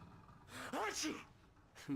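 A game character in Alan Wake lets out a quick sneeze, a short sharp vocal burst followed by a brief breathy sound.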